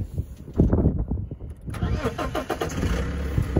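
An Alpina D3 diesel car engine cranks and catches, then settles into a steady low idle rumble, close by, with some background noise throughout.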